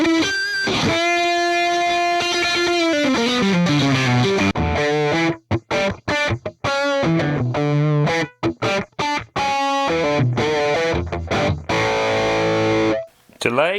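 Electric guitar, a Donner Hush X Pro, played through a distorted UK 800 amp model: sustained crunchy chords, then choppy staccato stabs and a final ringing chord, loud and continuous.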